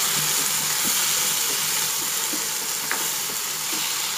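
Okra in mustard paste being stirred and mixed in a hot pan, a steady close sizzle and hiss with a few soft scraping knocks of the spatula, no voices.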